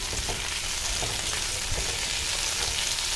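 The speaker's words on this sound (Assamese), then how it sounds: "কেপচিকামখিনি দি অকণমান ফ্ৰাই কৰাৰ পিছত এতিয়া মই বিলাহীখিনি দি দিলোঁ" Capsicum and tomatoes frying in a pan over a medium gas flame, with a dense, constant, close sizzle and faint stirring underneath.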